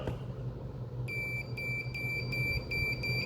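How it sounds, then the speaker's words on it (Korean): A multimeter's continuity buzzer beeps during a transformer test, sounding several crisp, high electronic tones in quick on-off bursts after a quiet start, over low background hum. "셀렉터를 부저에 놓고"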